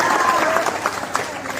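An audience at a community gathering breaks into applause, a brief burst of clapping from a crowd under a loud public address sound, fading out after about a second.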